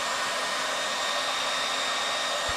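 A hair dryer blows hot air onto an LG G4 phone that is stuck in a boot loop, producing a loud, steady, unbroken whooshing roar with a brief low bump near the end.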